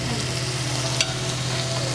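Boiled white chickpeas tipped into frying masala for chole, a dense steady sizzle with a brief splash as they drop in, close and continuous with no voices.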